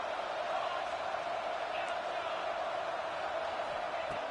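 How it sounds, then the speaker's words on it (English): A home crowd at a college football game between Oregon and Notre Dame keeps up a steady, broad roar at a distance, with a commentator talking over it. "this home crowd is fired up and ready to make a difference"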